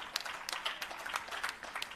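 An audience at a restorative justice conference claps in a soft, brief burst, scattered hand claps overlapping at moderate distance for a couple of seconds.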